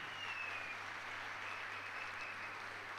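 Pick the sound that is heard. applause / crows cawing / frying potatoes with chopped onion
applause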